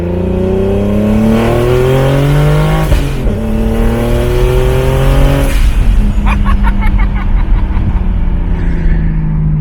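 A turbocharged BMW E36 engine revs up repeatedly through a custom 3-inch quad exhaust, its pitch climbing and dropping, loud and close, ending in a sharper burst of acceleration.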